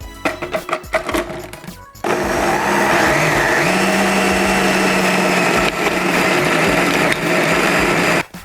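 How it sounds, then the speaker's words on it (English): A blender blitzes a mint, spinach and almond pesto, roaring loud and steady after a few short pulses, with its motor pitch shifting as the mixture breaks down. "And we're ready to blitz."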